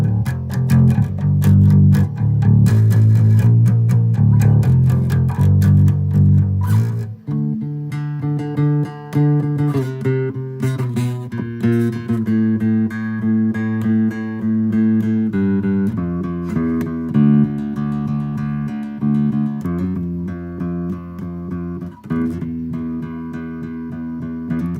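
A 2016 Epiphone Thunderbird 4 bass with both pickups on and the tone rolled fully down plays a run of deep, muffled, sustained notes up close, loud and alone.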